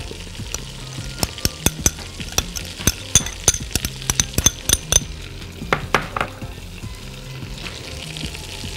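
Garlic and onion frying in a pan for seafood soup, a sizzling bed broken by many sharp utensil clacks and scrapes against the pan, dense in the middle then thinning out.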